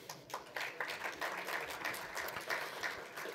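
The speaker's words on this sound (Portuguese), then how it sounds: "Uma salva de palmas." Audience applause at a Brazilian seminar panel on freight, a dense, even patter of many hands clapping, sustained at moderate loudness for a few seconds with no voices over it.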